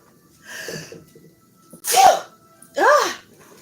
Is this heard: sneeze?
yes